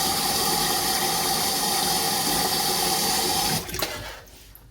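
Water runs hard into a sink, washing away ash in a steady rushing stream that holds for several seconds before cutting off and trailing into drips and gurgles.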